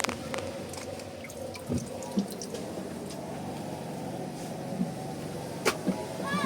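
Water is scooped and poured while bailing out a small boat with a dipper after a cold front, giving soft sloshing and scattered splashes and drips over steady low background noise.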